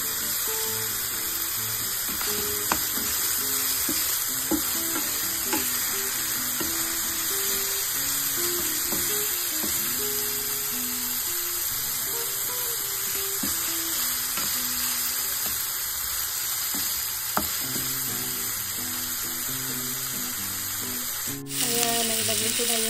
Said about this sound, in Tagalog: Ngayon, lulutuin ko muna ng mabuti yung bawang. Isusunod ko yung sibuyas naman.